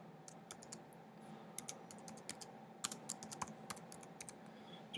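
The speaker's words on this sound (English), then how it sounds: "So first I'm going to type it in." Typing on a computer keyboard, fairly quiet, irregular bursts of close clicky keystrokes over a low steady room hum.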